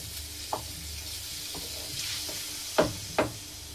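Minced meat frying in ghee: a steady soft sizzle throughout, broken by a few sharp knocks of a utensil against the pan, two louder near the end.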